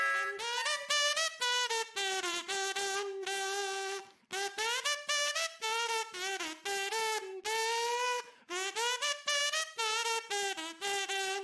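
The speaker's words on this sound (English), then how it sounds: "Kazoo. It looks like a funny little whistle." A buzzy kazoo hums a lively tune in quick phrases, loud and near, pausing briefly between lines.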